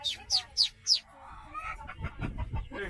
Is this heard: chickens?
yes